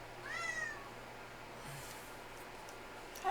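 A cat lets out one short, faint meow over steady background noise during a game stream of Xenogears, with no other sounds standing out.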